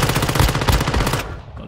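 Rapid automatic gunfire in Warzone Mobile, a dense close burst of shots that stops abruptly after about a second, leaving a brief tail.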